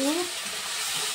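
Garlic, ginger and green chili paste stirred in a hot pan, a steady soft sizzle with faint scraping, fairly close and even throughout.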